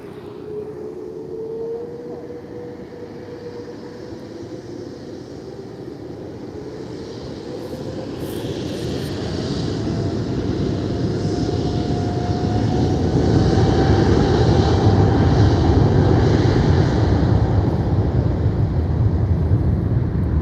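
A TAP Air Portugal Airbus A321 airliner passes near Lisbon, its engine roar building steadily from a moderate rumble to a loud, sustained drone with a rising whine, without talk.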